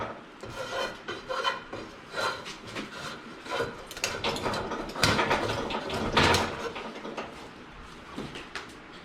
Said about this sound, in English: Yeah, I'm gonna sand her a little more.